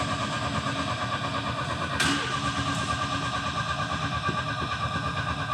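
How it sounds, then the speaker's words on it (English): An old Italian sports car engine cranks steadily without catching, a continuous churning drone with a brief sharp click partway through. "I've been trying to get this car started for hours and it just won't start."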